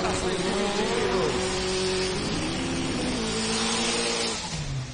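Drag racing car doing a tire-warming burnout at a Goiânia drag event, a turbo Chevette or turbo Opala, with a loud, steady engine roar whose pitch wavers and steps up and down, continuous throughout.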